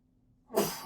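A single abrupt sneeze bursts out after a quiet moment, a sharp, breathy explosive sound that is fairly close.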